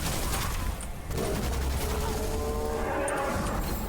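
Midas rifle gunfire with a fire rate boost in the video game Witchfire: a loud, sustained rapid volley of shots with a brief break near the start, with a voice partly under it.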